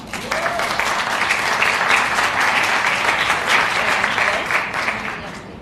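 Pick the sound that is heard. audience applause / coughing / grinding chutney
audience applause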